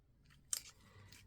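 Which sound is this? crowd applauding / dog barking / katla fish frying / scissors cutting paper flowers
scissors cutting paper flowers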